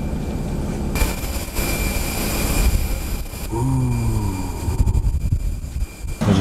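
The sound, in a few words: airplane jet engine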